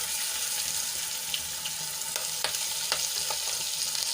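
Chopped green chillies hit hot oil with cumin, curry leaves and a pinch of asafoetida, producing a steady close sizzle broken by a few light clicks and spoon taps.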